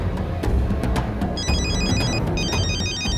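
A telephone rings with a repeating electronic trill in two bursts, clearly audible over a steady murmur of background noise in a dramatic film scene.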